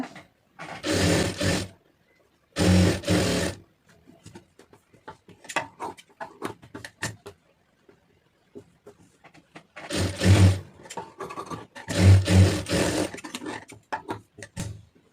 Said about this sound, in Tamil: கரெக்டாக அந்த கேப்பில் தையல் போட்டுருங்க